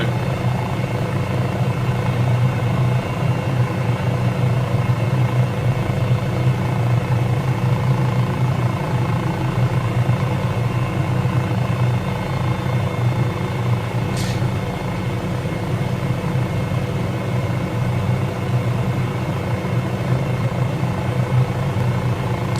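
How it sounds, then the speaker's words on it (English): An MD500E helicopter in Microsoft Flight Simulator drones with a steady whirring rotor and engine hum, unchanging and continuous throughout, with one brief faint click partway through. "I'm sure they won't mind buzzing around in the helicopter."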